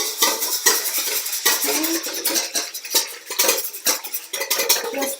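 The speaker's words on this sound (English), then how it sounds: "I'm going to whisk that up quickly" A whisk beats pumpkin pie filling in a bowl, making quick rhythmic metallic clicks and scrapes against the bowl's sides, close and fairly loud, with a brief spoken word at the start.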